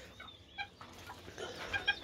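A broody Serama hen gives a few faint, soft clucks, quiet and scattered, with short guttural notes near the middle and a small cluster toward the end.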